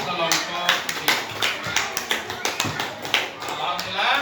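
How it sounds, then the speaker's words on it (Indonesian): A classroom of students claps for group B after a group discussion task, with rhythmic, fairly loud hand claps in a regular beat while voices talk over them. "Tepuk tangan juga untuk kelompok B."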